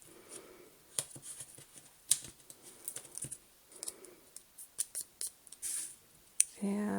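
Scissors snip a chunk off a large roll of adhesive dimensionals in a quiet room, a series of light, close, irregular clicks and crisp snips spread over several seconds.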